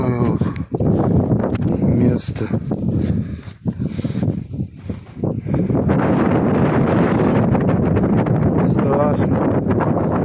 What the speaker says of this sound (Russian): Ветром сдует, вот просто порыв.